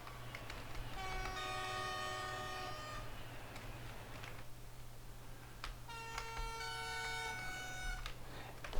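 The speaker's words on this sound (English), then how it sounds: "European train horns do sound a bit aggressive" Two long, harsh two-tone European train horn blasts sound a few seconds apart over a steady low engine drone, with faint clicks in between, in Train Simulator 2021 on the Wiener Neustadt to Graz route.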